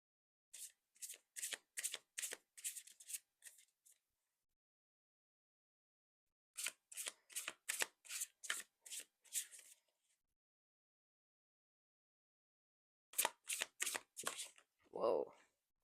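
Oracle cards are shuffled in three separate bursts of quick riffling flicks, close and crisp against silence, each run lasting a few seconds.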